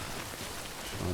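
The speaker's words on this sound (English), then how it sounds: "There's rain, but I didn't get a timefall indicator" Rain falls in Death Stranding, a steady hiss at moderate loudness with no distinct drops or thunder.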